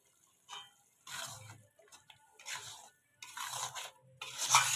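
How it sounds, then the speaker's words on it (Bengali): Masala spices with salt and turmeric being stirred and fried in a pan for Bengali egg curry, with intermittent sizzling bursts and scraping stirs, close and fairly quiet, no speech. "এইভাবে মশলাটা আমি কষিয়ে যাব।"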